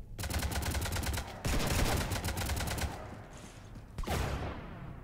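Heavy automatic gunfire in the Mass Effect 3 Citadel DLC fight, with rapid, loud sustained bursts, a brief break, then renewed firing near the end.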